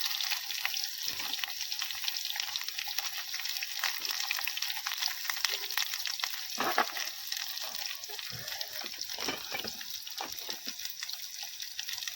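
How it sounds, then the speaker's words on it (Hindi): Steady, loud sizzling and crackling of mustard seeds in hot oil, tempering poha at a jungle campsite, with occasional pops throughout. "पोहे को तड़का लग रहा है"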